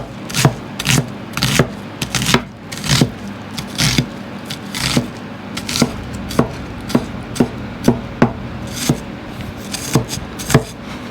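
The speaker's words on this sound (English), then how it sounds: "And now we can chop this up in a little bit smaller pieces here." Steady knife chopping on a cutting board, cutting ingredients into smaller pieces for a salmon patty sandwich; about eighteen crisp, evenly spaced chops close up with no talking.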